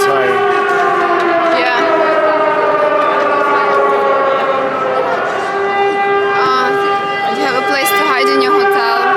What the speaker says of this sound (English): And just when we are talking, there is a siren.